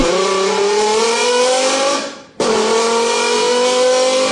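A BMW M5 G90 engine with BERK downpipe and Akrapovic titanium exhaust revs hard and steady, drops off abruptly for a moment, then snaps back to a loud, buzzy high rev.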